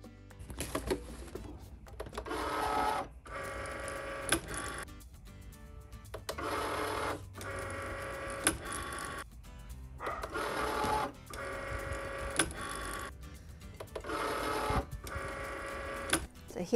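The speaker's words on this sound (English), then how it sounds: "we push the button on our Cricut and off we go" A Cricut cutting machine works through cardstock in repeated bursts of motorized whirring and buzzing, each run lasting a second or two, separated by short pauses as the carriage shifts, all heard close by.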